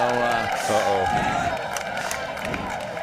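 Spectators cheer and clap at a men's doubles pickleball match, a loud burst of crowd noise that fades over a few seconds, with voices carrying through it.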